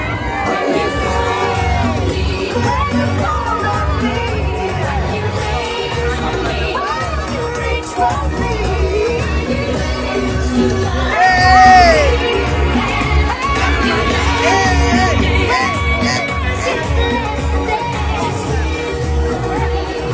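Outdoor lounge party crowd with a DJ, people screaming, whooping and cheering together over loud thumping music, with a swell of shouting near the middle and constant babble of voices throughout.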